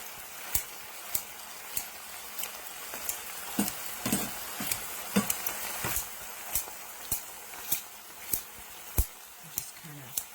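Chopped stinging nettles sizzle in a warm regular-size cast iron skillet, a steady crackling hiss broken by regular sharp clicks and scrapes of stirring about every half second, close up.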